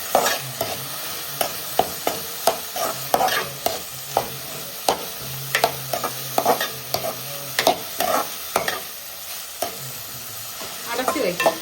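Food frying in hot oil, a steady crackling sizzle broken by repeated sharp scraping clicks of stirring, close and fairly loud with no talk.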